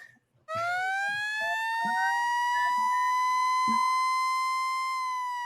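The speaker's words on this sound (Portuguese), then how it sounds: "Pode, dá para tocar a sirene, Toca a porque sirene." A loud siren wails in one sustained, slowly rising tone after a brief click, holding steady and close for several seconds.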